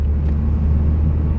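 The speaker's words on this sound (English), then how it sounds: "We are in a Honda Civic Si." A Honda Civic Si drives along with a steady low engine rumble and road noise, close and constant throughout with no voices.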